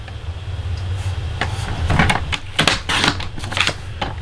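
A piece of craft paper is cut to size, heard as a quick run of sharp, close clicks and short scraping slides that grow busier toward the end, with no voice.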